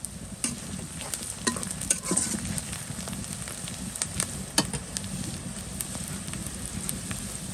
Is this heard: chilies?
yes